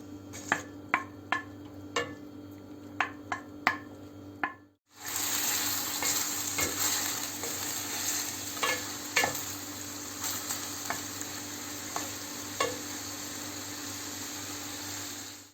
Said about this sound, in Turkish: Şimdi tavuk etlerimi üzerine ekliyorum